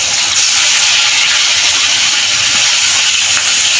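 Hilsa fish frying in a pan, a loud, steady, bright sizzle and hiss that holds unbroken throughout, close up with no voices.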